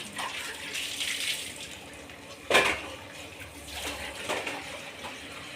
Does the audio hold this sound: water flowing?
yes